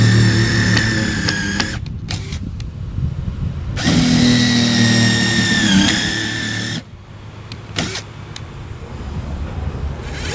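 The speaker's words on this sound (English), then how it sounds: "I am using a number 10 size countersink bit" A power drill fitted with a number 10 countersink bit bores holes for a decorative chicken egg rack, a loud whining spin in several bursts separated by short pauses, the final stretch quieter.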